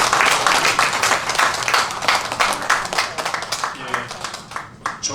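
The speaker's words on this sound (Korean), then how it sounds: "함께 박수 드리겠습니다." Audience applause at a book launch ceremony, dense and steady clapping from a crowd that carries on for several seconds, fairly loud and close, with a faint voice mixed in beneath it.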